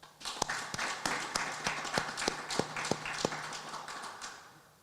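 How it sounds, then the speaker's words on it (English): Graduation ceremony applause: about a dozen crisp claps in an even, steady rhythm from what sounds like a few hands close by. The clapping is moderately loud and carries on alone, with no talking over it. "I think that needs a round of applause"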